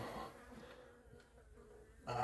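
Bees buzz in a dense, continuous drone at a hive cut-out, close by, with a louder swell at the very end.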